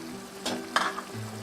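Cherry tomatoes dropped into a pan of frying chunky tomato sauce for spaghetti, giving a few quick splashy sizzles and stirring scrapes over a steady low simmer, close and moderately loud with no speech.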